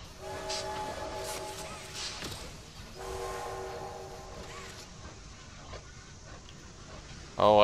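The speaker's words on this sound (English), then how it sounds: "Oh, I like pulling the train whistle." A pulled train whistle in the video game Poppy Playtime gives two sustained, steady toots separated by a short gap, fairly prominent over quiet ambience, with a person speaking near the end.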